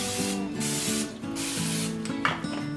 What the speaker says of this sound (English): give these a quick spray on top with the cooking spray again